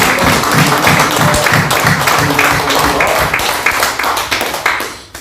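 Congregation applauding during a church worship service, a loud, close, continuous clapping that fills the whole few seconds and tapers slightly at the end.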